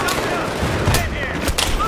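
Dense rattling gunfire and explosions from Battlefield 3 multiplayer on the Back to Karkand map fill the clip, loud and continuous, with voices faintly mixed underneath.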